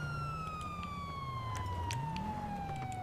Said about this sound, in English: I hear sirens going on.